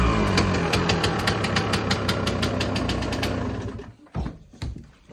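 A Kawasaki engine cold-started with the choke on runs loud and close, a dense rattling, knocking drone that holds steady for several seconds and then drops away into a few sputtering bursts.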